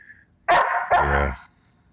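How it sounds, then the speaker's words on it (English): A dog near a maternity pen lets out two loud, close barks in quick succession, the second drawn out, then falls quiet. "he's just over there barking to be barking"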